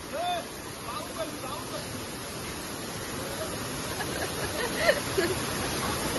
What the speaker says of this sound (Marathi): हा बघा किती मोठा आहे धबधबा.